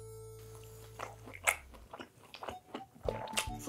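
Close, crisp bites and crunchy chewing of fried sweet and sour pork (tangsuyuk) from a Chinese restaurant, a quick series of sharp crackles and munches after a brief low hum at the start.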